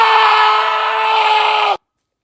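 A man screams very loudly in one long, sustained, strained cry that cuts off abruptly, leaving silence.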